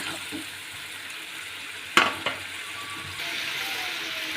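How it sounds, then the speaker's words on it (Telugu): Food sizzles steadily in a frying pan, a soft continuous crackle punctuated by a couple of sharp metallic clinks from a utensil, with the sizzle swelling slightly toward the end. "ఇది 3 minutes ఫ్రై అవ్వనివ్వాలండి"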